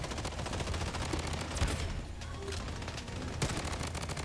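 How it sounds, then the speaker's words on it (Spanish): Rapid bursts of automatic gunfire in the video game Blood Strike, dense crackling volleys continuing throughout, with a few sharper single shots standing out. "Me disparan por detrás. Me disparan por todos lados."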